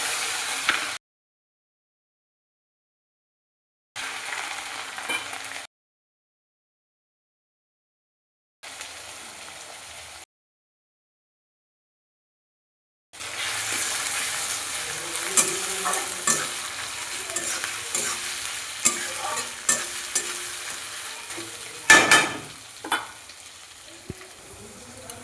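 Ginger-garlic paste fries and is stirred in a pan for a meat curry. Short bursts broken by silent gaps give way to a steady, close sizzle with scraping stirs and occasional louder clatters.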